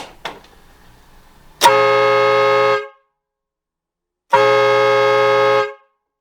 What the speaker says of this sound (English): So now I'm going to honk it in the same spot in the garage.